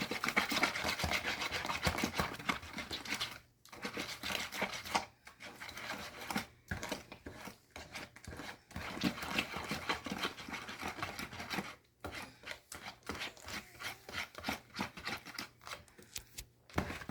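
Whisk stirring banana oatmeal cookie batter in a bowl, busy rhythmic scraping and rubbing strokes that run continuously with a few brief pauses, close and fairly loud, no voices.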